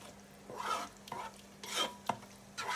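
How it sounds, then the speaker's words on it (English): A spoon stirs a catfish and croaker fish stew in a pot after fried onions and green seasoning have gone in, making several soft scraping strokes over a faint background sizzle. "we're going to stir all that thoroughly."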